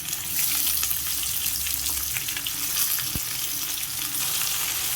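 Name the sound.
broad bean pieces frying in a pan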